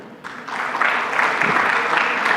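An audience at a corporate HR panel discussion applauds as speakers are introduced, clapping that swells after a quiet start and holds steady.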